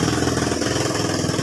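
A repaired, freshly rewired motorcycle engine idles steadily and close by, a loud continuous pulsing putter with no voices over it.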